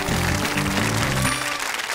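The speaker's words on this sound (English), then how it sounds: "Round of applause." Game show studio audience applauding at the end of a round, a steady wash of clapping that fills the whole moment and thins slightly toward the end.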